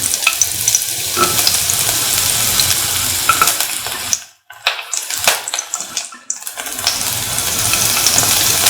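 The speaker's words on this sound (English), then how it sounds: "Once the oil gets heated, put in the shallots," Shallots and garlic sizzle in hot oil, a dense steady crackle with stirring clatter; the frying briefly drops out mid-way as ingredients go in, then resumes at full loudness.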